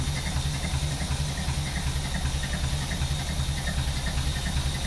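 A 1931 Horch 480 Sport Cabriolet engine turning over produces a steady, low, rhythmic mechanical drone with a constant pulsing beat, heard close and alone with no talk.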